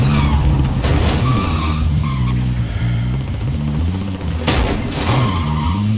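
A car in the Call of Duty Warzone video game drives with a loud, continuous engine roar and tire skidding, ending in a brief burst of bright crunching noise.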